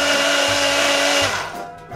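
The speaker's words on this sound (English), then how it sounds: "using a blender is extremely complicated" A blender whirs loudly for cocktails in a caravan, a steady high motor whine with a pitch shift before it winds down near the end.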